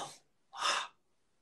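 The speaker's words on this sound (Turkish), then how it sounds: "İşte bu nefes." Breathing with the tongue pressed against the upper palate: two audible breaths, a short one at the start and a louder hissing exhale in the middle, close to the microphone, with silence between and no talk.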